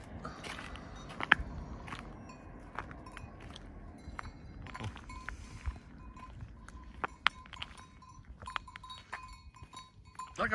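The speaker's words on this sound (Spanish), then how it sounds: "¿Cuánta cabra, tío?" Goats bleat intermittently amid clattering hooves, shuffling and scattered knocks, with occasional clanks like a bell, all fairly quiet and close.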